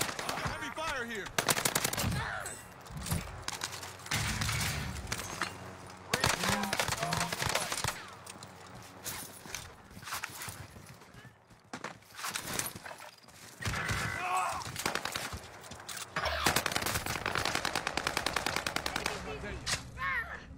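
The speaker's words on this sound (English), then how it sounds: "Heavy fire here." Heavy gunfire in a video game battle royale match, dense bursts of automatic machine-gun fire and single shots rattling loudly and almost continuously, with a short lull midway before the shooting resumes.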